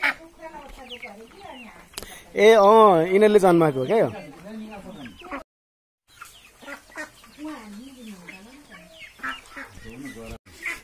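Chickens cluck and squawk loudly at close range in a rural outdoor setting, with a burst of strong calls early on and scattered softer clucks later, mixed with people talking throughout.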